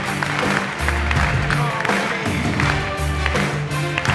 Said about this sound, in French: Applaudissements pour Jonathan.